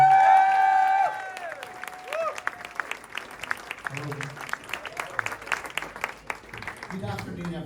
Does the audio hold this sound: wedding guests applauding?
yes